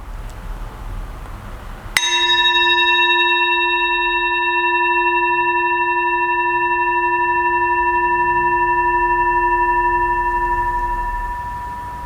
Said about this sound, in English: tune into the sound of the yoga bell